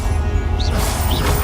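Spell-casting effects from Hogwarts Legacy, fire spells like Incendio and Confringo, burst out as a dense, continuous crackle of magical whooshes and smashing impacts. Two rising swishes cut through a loud, steady wash of game noise.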